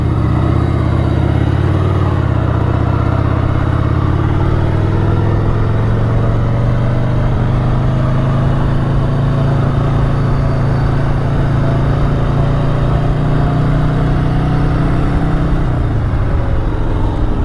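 A 1988 Harley-Davidson Sportster XLH 1200 chopper idles nearby with a loud, steady, throbbing rumble. It holds a lumpy, even beat and its pitch wavers slightly toward the end.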